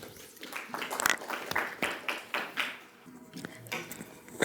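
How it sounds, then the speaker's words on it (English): An audience at a university student research forum claps to welcome a speaker to the podium, scattered separate claps that are fairly faint and somewhat distant and thin out toward the end. "please join me in giving a warm round of applause"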